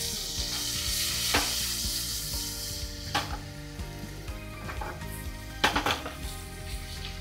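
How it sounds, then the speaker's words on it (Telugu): Paneer pieces sizzle and fry in a hot pan for a paneer biryani, a steady close crackle with occasional clinks and scrapes of a utensil against the metal. "పన్నీర్ పీసెస్ వేసేసుకోండి. మంచి ఫ్రై చేసుకోండి కొంచెం కలర్ వచ్చే వరకు."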